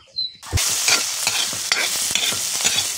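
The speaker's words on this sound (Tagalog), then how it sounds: "Next ay magisa na tayo ng panakot." Aromatics hitting hot oil in a wok, an abrupt burst of loud, close sizzling followed by steady frying hiss with repeated stirring scrapes over three seconds.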